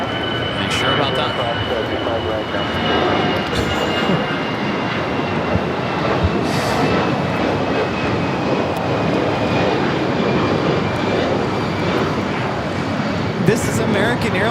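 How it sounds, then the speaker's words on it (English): An American Airlines Airbus A319 takes off at Los Angeles airport, a loud, sustained broadband jet roar with a steady whine running through it, close and unbroken, with voices talking faintly underneath. "This is American Airlines 2233 taking off to San Francisco on the A319."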